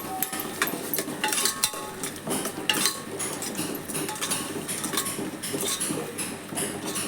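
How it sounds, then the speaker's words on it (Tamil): Metal spoon stirring biryani masala and yogurt in a cooking pot, a busy run of close scraping and clinking strokes over a light sizzle, no talk. "பச்சை வாடை போகிற அளவுக்கு நல்லா கிளறிக்கோங்க."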